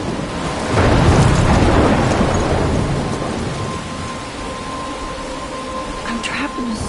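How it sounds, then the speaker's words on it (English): Video game thunderstorm, with loud rolling thunder and steady heavy rain swelling early on, then easing to a constant downpour with faint tonal game sounds near the end. "I'm trapped in a storm?"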